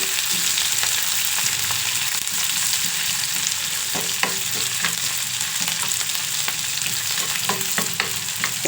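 Tempering of green chilli and coriander frying hot in a pan for a tomato chutney, a steady dense sizzle with scattered crackles and pops throughout, close and loud with no talking.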